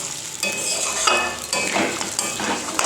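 Mutton is stirred and fried in a pan, with a spatula scraping and clattering in several strokes over a continuous close sizzle and no talking.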